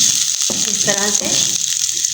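Ginger-garlic paste fries in desi ghee in a home kitchen with a loud, close, continuous sizzle while someone briefly speaks over it.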